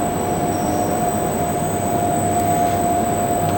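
A filter tester extruder running just after start-up, a steady mechanical drone with constant tonal whines sitting over broadband noise, loud and unchanging throughout with no talk.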